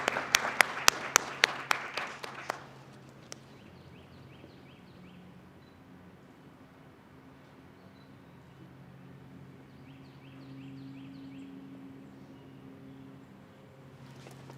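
A small group claps for a couple of seconds at a graduation ceremony, then the clapping fades into a quiet room hum.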